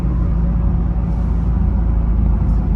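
A sports car's exhaust holds a loud, steady low rumble at idle, close by and unbroken, with no one talking over it.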